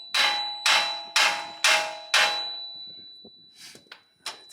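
A hammer strikes the steering knuckle of a 2007-2021 Toyota Tundra to break it loose from the upper control arm. Five loud, ringing metallic clangs land about half a second apart, followed by a few fainter knocks.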